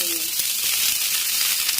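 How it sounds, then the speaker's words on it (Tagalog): Sweet potato leaves hit hot olive oil in a pan and give off a loud, steady sizzle close by, with no break through the whole sound. "Lagay ko na yung talbos ng kamote."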